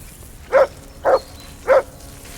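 Mutt the dog barks three times in Kingdom Come Deliverance 2, short evenly spaced woofs about half a second apart, clear and close against a quiet background.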